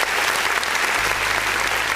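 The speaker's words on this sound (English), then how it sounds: "Let's clap for that." A live online music review show's audience gives a dense, continuous round of applause, steady and fairly loud throughout with no talk over it.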